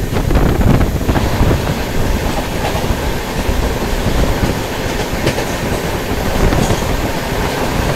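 The Golden Temple Mail rolls on from Mathura Junction toward Bharatpur Junction in India, giving a loud, steady rumble with wheel clatter and wind rushing past throughout, and no voices.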